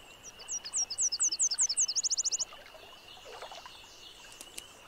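Warblers, including Nashville warbler and mourning warbler, sing in beaver-enhanced wetland habitat: a rapid series of bright, rhythmic high trills and chips dominates the first half, then faint scattered calls continue over a quiet background.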